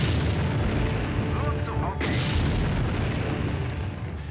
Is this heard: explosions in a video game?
yes